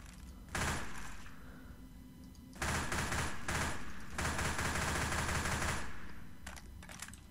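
Uzi submachine gun in Left 4 Dead 2 unleashing several rapid bursts of automatic fire, loud and close, with short pauses between strings of shots.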